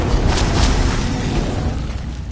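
Incendio fire spell cast in Hogwarts Legacy, a loud roaring burst of flame with a few whooshing surges, filling the brief moment without any voices.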